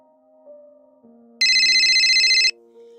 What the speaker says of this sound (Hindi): घनघनाते हुए मोबाइल की घंटी बजी